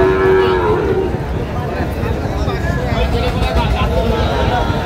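Sahiwal bull calves moo at a cattle market, a loud bellow opening the stretch before settling into steady bovine calls and crowd babble, with people talking nearby throughout.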